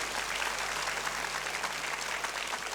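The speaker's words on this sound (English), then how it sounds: "Audience, I want to hear some applause." A debate-competition audience at a finals event claps continuously for about three seconds, a dense, even patter of many hands at moderate volume with no voices over it.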